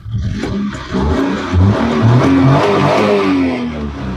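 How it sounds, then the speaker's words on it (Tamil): A small 2005 Maruti Alto car engine revs up and climbs in pitch, loud and close, then holds a steady whining drone. "வாவ், இன்ஜின் ரொம்பவே ஸ்மூத்தாக இருக்குது."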